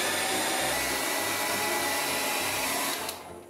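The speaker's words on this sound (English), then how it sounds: "you can adjust it by using a hairdryer to warm up the arm" A hair dryer blows steadily at close range, warming a sunglasses arm, a constant rushing whoosh with a low hum, cutting off just before the end.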